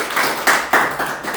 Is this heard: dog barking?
no